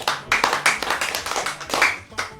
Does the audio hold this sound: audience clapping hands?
yes